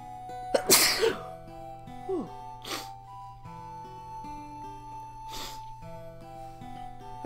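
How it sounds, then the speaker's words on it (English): A single sharp human sneeze erupts loudly near the start during a Golden Sun: Dark Dawn playthrough, over steady game music, with softer breathy noises following later. "I sneezed a little bit."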